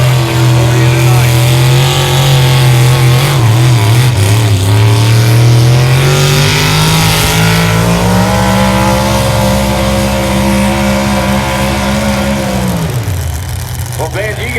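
A four-wheel drive truck engine roars loud and close at a nighttime truck pull, holding a sustained revving drone that climbs slowly in pitch before dropping off abruptly near the end.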